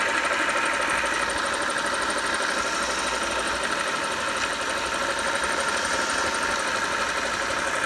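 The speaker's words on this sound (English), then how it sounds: "I'll turn this on. You could see that it tracks better, and overall it works better." A homemade 1x30 belt sander runs with a leather sanding belt, giving a steady, even mechanical whir and buzzing hum at moderate level, unbroken and without speech throughout.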